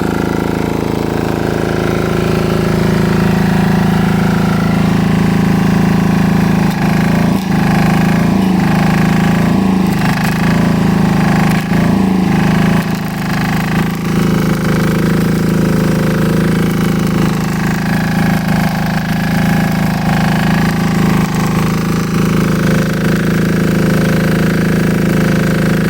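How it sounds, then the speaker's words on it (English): A small 200 amp diesel welder with 110 and 220 volt auxiliaries runs steadily close by, a loud continuous engine drone with a few brief knocking bursts partway through. "here with a diesel welder. Little 200 amp with auxiliaries of 110"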